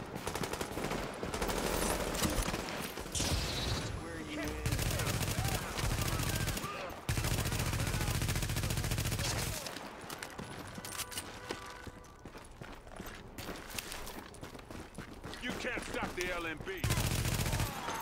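Bursts of rapid automatic gunfire and sustained fusillades from The Division video game, loud and close, broken by brief pauses, with a player talking intermittently over the shooting.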